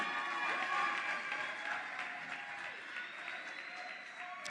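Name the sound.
audience applause at award ceremony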